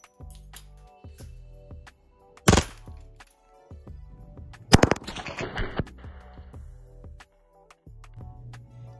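Action Army AAP-01 airsoft pistol fired in full auto, with two sharp, loud bursts of rapid shots standing out against quieter background sounds.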